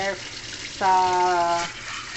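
Water streams from a water purifier tap in a steady rush, with a brief tonal voice or hum at the start and another in the middle.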